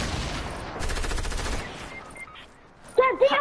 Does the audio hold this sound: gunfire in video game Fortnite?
yes